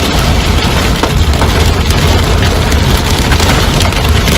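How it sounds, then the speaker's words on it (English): Hail pounds down during a thunderstorm, a loud, dense, unbroken clatter of stones striking surfaces nearby with no pauses. "Listen to that hail!"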